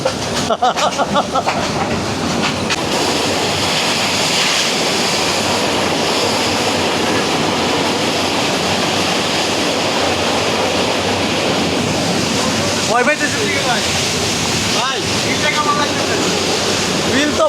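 A loud, continuous roar and rattle of a moving train near Sreemangal, Bangladesh, heard from inside, with rushing noise throughout and a few sharp clanks.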